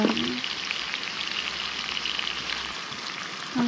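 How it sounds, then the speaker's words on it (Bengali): Ginger and garlic paste fries in hot oil in a pan, making a continuous crackling hiss like heavy rain, steady and close from start to finish. "তেল গরম হওয়ার সাথে সাথে দিয়ে দিলাম আদা বাটা, রসুন বাটা"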